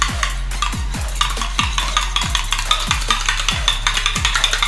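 Eggs seasoned only with salt are whisked briskly in a bowl for an egg roll, a fork or spoon clicking against the sides in a fast, steady rhythm with regular sharp strokes, close and fairly loud over a low background hum.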